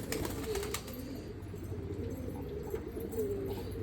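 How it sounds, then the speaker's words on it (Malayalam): Pigeons coo in soft, repeated low throaty phrases near a coop in the morning, steady and close over a dull background hum. "ഇനി ഇതാ പ്രാവ് ഇതാ കൂട്ടേക്ക് പോവാട്ടോ"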